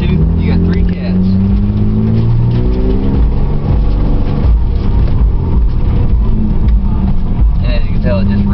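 A 2001 Mitsubishi Eclipse GT third-generation with a redone exhaust runs nearby, its engine note rising and falling in loud revs, with some talk mixed in on a wet day after rain.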